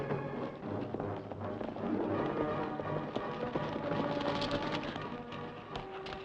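Several horses' hooves drumming fast and continuously at a gallop, dense and moderately loud, mixed with a rushing, noisy background in a dramatized adventure scene.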